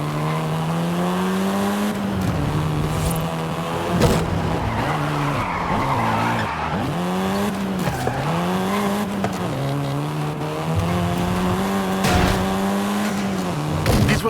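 A seventh-generation Volkswagen Golf R drives hard in Forza Horizon 5, its engine droning loudly and rising and falling through gear changes while tires squeal and skid through corners, continuous and close throughout.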